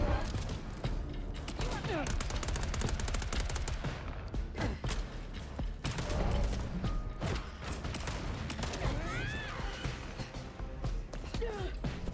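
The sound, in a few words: gunfire in video game Vampire: The Masquerade Bloodlines 2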